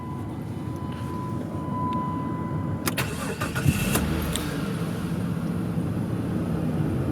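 A car with a 2.7 liter V6 and about 30,000 miles cranks briefly and fires up, then settles into a steady, smooth idle, heard close with no talking.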